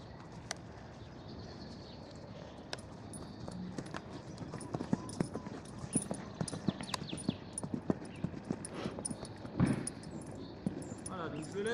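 A horse's hooves cantering in a riding arena before a jump, rhythmic three-beat thuds with jingling tack, close, under someone talking.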